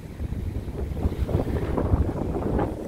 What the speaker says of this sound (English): Very windy again today.